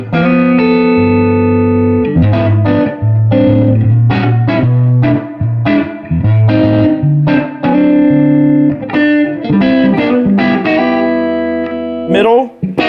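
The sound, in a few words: electric guitar neck pickup through 1968 Fender Super Reverb amp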